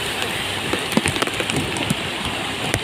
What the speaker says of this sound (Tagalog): Kaya malakas talaga ulan.